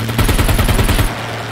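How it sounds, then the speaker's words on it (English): Rapid burst of automatic gunfire in a video game dogfight, roughly a dozen evenly spaced shots over about a second, loud and close, then cutting off to a steady low hum. "are you the one shooting into the sky right now?"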